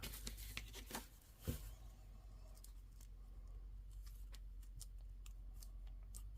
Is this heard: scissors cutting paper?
yes